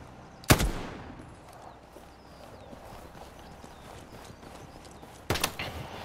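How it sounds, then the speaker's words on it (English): Gunfire in a video game: two sharp, loud shots ring out several seconds apart, the first near the start and the second near the end, over a low, quiet background. "There's still someone shooting at me."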